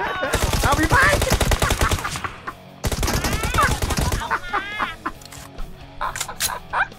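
Gunfire in the mobile battle royale PUBG Mobile: dense, sustained bursts of automatic fire pound almost without pause, stop briefly, then resume in another heavy volley, loud and close. Excited voices and game effects run underneath.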